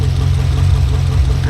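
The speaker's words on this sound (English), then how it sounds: "I'm going to start the engine and see if we can find this stupid leak." A Camaro engine with a massive oil leak idles loud and close, a steady low rumble that holds even throughout.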